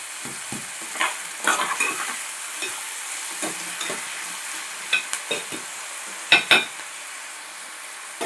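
Onions with salt fry in a pan while being stirred, with a soft continuous sizzle broken by scattered scrapes and knocks of a spoon, louder clusters toward the end, and no talk.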